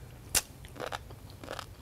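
Crisp bite into a sea grape (seaweed) smoothie with snow fungus, one sharp crunch followed by a few softer chewing crunches, close and fairly quiet with no talking.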